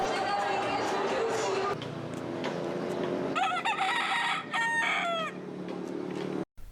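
A rooster crows several times, with rising and falling calls, at the start of the Chinese New Year of the Fire Rooster in Manila, Philippines, heard over a background of crowd chatter.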